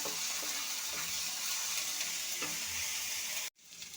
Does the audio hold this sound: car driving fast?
no